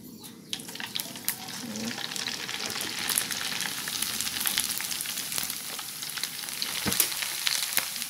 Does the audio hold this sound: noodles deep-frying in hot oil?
yes